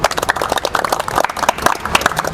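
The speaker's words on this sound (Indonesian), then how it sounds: "Tepuk tangan untuk kita semua." Group applause from participants closing a lecturer certification training session, a dense patter of many hands clapping steadily for a couple of seconds, fairly close and moderately loud, with no talk over it.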